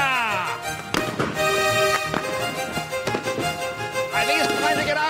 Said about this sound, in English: That's whole volleys from all the cannons on one side of the ship.